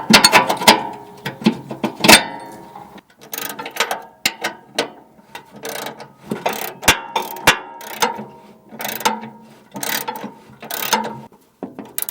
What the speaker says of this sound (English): this bolt as you unscrew it's going to want to go up and down